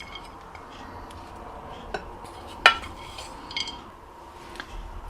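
Rava dosa batter being stirred together with a cooled tempered onion mixture in a bowl, giving soft, steady scraping with a few sharp utensil clinks against the vessel.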